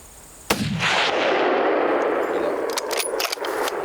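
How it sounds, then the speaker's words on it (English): A single loud rifle shot fired while hunting tahr in New Zealand's mountains, a sharp crack at about half a second followed by a long rolling echo that fills the rest of the clip. "Shoot the one on the left off the two."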